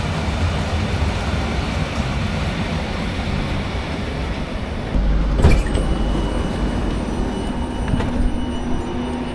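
Train ride between Chorzów and Bytom in Poland, a steady loud rumble of rolling wagons throughout, with a brief sharper clatter and squeal of wheels near the middle; no voices.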